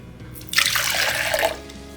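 Vinegar pours into a jar in a brief, close splashing gush lasting about a second, then stops. No one speaks.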